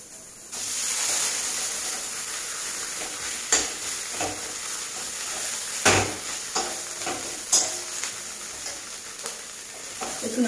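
Food hits hot oil in a pan and sizzles with a steady close hiss, broken by sharp scraping stirs and clatters throughout.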